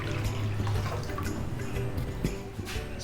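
Water pours and splashes into a pot for boiling pasta, a steady uneven gurgle with small drips and splashes, close and fairly faint, with no talking over it.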